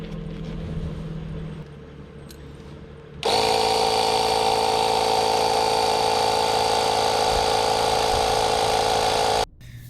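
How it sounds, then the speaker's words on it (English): A compressor pump inflates rear air suspension airbags on a sagging vehicle, starting abruptly and running as a loud, steady mechanical whine and buzz for several seconds, then cutting off sharply, with quieter ambient noise before and after. "I'm going to add some air to my airbags"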